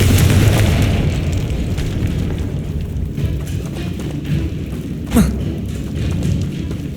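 Confringo spell explosion in the Hogwarts Legacy video game: a loud, rumbling boom that fills the clip with a dense roar, then a sharper burst near the end before the rumble carries on.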